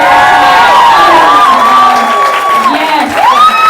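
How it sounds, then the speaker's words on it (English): Theater audience at a staged monologue performance cheering and whooping loudly with crowd noise throughout, a steady dense roar with rising and falling shouts. "one more round of applause for all of our"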